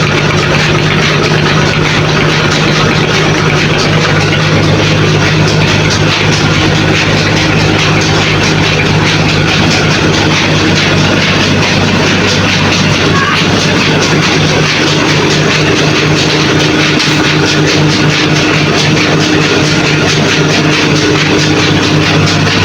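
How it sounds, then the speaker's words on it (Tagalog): A large rice mill engine grinds palay with a loud, steady low mechanical roar and hum that runs unbroken throughout. "Umandar po yung makina mga kalangga. May nagpagiling po ng palay sa baba."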